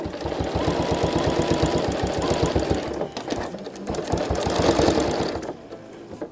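A domestic home sewing machine stitches in rapid, even mechanical pulses, close and loud, pausing briefly midway before running again and slowing at the end.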